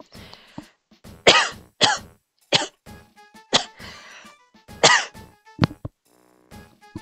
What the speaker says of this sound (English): I moved my mic away to cough